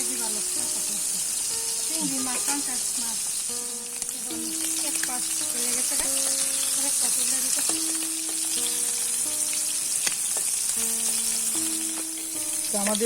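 Shrimp fry in a pan under a loud, steady sizzle as a utensil stirs them with scrapes and taps, while tonal squeaks and voices come and go in the background.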